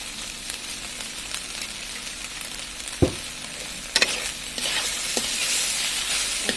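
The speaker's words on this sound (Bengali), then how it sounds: "এখন আমরা যে টমেটো কেচাপটা আছে সেটা এর মধ্যে দিয়ে দিচ্ছি।" Chicken frying in a pan sizzles steadily as tomato ketchup goes in, with a dull thump and a few utensil clinks, the hiss swelling louder toward the end; no speech.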